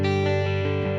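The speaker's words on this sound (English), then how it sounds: "Okay, so here's my clean tone." Clean electric guitar tone from the neck single-coil pickup through a Jazz Chorus amp: a brief, steady sustained chord ringing clearly and loud, with no talk.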